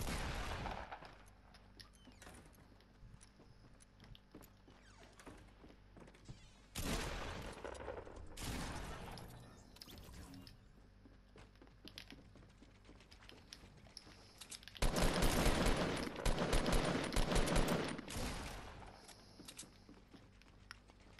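Shotgun fire from the Fortnite video game, with scattered heavy blasts and a dense, loud cluster of shots late in the stretch, among quieter footsteps and game noise.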